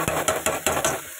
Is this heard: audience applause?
no